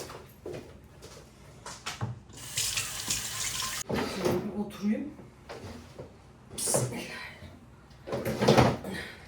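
Tap water runs into a sink in bursts as gloved hands are washed in a home kitchen, with clatter and someone talking in between.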